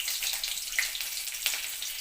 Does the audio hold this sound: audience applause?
no